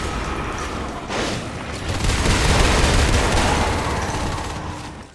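Rapid gunfire in the sci-fi shooter Natural Selection 2, a dense run of shots building to a loud sustained stretch then tapering off, with no speech over it; the exact weapon is not distinguishable.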